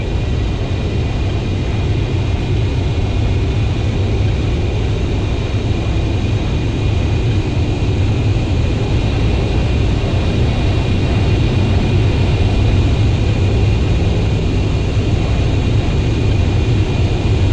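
An F-15C jet engine in the flight simulator DCS World drones steadily and loudly throughout, a constant whine and roar with no talking.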